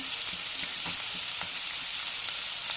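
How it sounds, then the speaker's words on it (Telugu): Chopped bottle gourd pieces sizzle and fry in a pan with a steady, close crackling hiss and a few faint stirring scrapes, with no voice. "ఇవి ఫ్రై చేసుకుందామండి ఇది ఒక మూడు నిమిషాలు పచ్చివాసన పోయేంత వరకు ముక్కలు మధ్యాహ్నం వరకు ఫ్రై చేసుకోవాలి"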